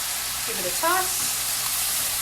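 Beans tossed into hot herb-infused oil for Ayurvedic tacos, a loud steady sizzle with a brief tossing rattle and a short vocal sound partway through.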